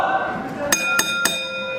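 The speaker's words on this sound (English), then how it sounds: "There goes the bell." A wrestling match bell rings three quick, bright clangs about a quarter second apart, each leaving a ringing metallic tone over the murmur of the arena.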